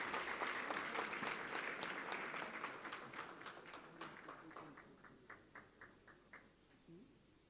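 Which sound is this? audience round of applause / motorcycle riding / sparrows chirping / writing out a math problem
audience round of applause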